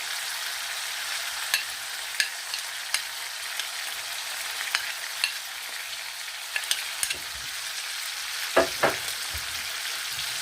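Carrots fry with meat in a pot for plov, giving a steady close hiss of sizzling oil broken by light clicks and a couple of louder scraping stirs near the end.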